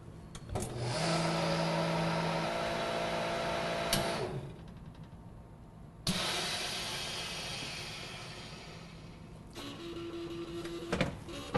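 An MVS vacuum sealing machine pulls air out of a bag with a steady loud motor whir and hiss, shifting pitch as the pump labors and cutting out abruptly before restarting.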